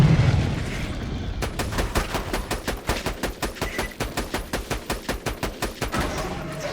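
Rapid automatic gunfire from the video game Borderlands 2, a steady burst of about two dozen evenly spaced loud shots after a brief rumbling lead-in, with no talking.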